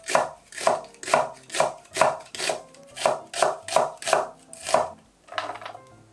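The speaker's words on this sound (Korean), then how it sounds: "양파는 곱게 채 썰어주세요." A knife finely julienning an onion on a cutting board: about a dozen crisp, evenly spaced, close chops in a steady rhythm, then a softer final cut.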